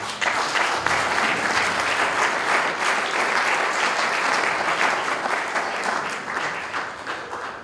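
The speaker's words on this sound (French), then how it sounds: "On peut acclamer le Seigneur." A church congregation claps steadily and vigorously for several seconds, a dense, sustained round of applause filling the room that eases only slightly toward the end.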